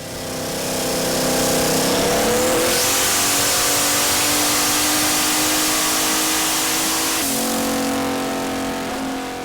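On a dynamometer, a car engine revs up and holds a loud, rising mechanical roar for several seconds before letting off, with the pitch dropping near the end. No voices are heard.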